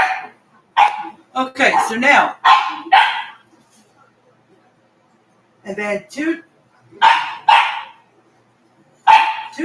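A small dog yips and barks in short bursts near the microphone, mixed with a person talking between and over the barks.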